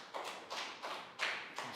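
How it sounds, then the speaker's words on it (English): Scattered clapping from a Year 3 class in an English lesson, a few loud separate claps falling in an uneven rhythm with no talk over them. "Big round of applause."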